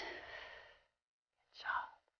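A child's soft exhale during a kids yoga breathing exercise, a gentle breath out followed after a short pause by a brief sigh-like breath, quiet and close.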